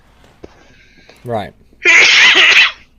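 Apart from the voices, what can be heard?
sneeze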